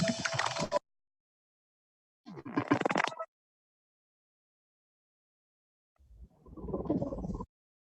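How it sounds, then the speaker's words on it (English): Soloed impact and effect sounds from an electronic music track come as three separate bursts with silence between them. The first two are bright and textured, and the last is a lower, rumbling swell that fades out. "these impact and effect sounds down here"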